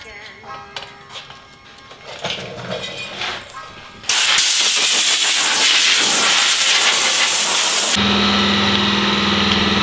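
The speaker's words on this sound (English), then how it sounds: "Kyle, we have the compressor on. It's loud and kicking" Air compressor running in a shop during a widebody kit install on a Challenger, a loud steady hiss that takes over partway through, masking faint earlier sounds, with a droning hum at the end.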